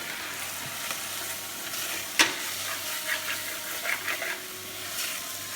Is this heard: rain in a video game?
no